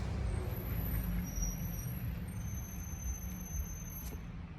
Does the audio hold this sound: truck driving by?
yes